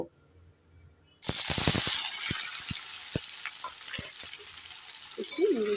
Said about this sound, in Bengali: এবার প্রথমে আমি কুঁদরিগুলোকে ভেজে নেব